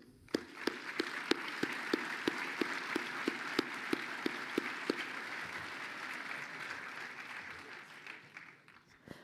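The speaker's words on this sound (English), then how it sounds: "Let's applaud them." An audience at a university master's graduation ceremony applauds steadily, a dense wash of clapping with regular sharp accents that carries on for several seconds before gradually thinning and softening.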